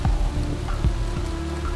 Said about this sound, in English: the rain just gets to be a bit too much.